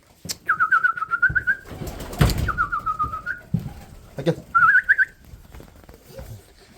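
Breeder pigeons in a loft give soft, rolling coos in three drawn-out phrases, close and fairly loud, mixed with rustling, a sharp burst of handling noise and other loft clatter in between.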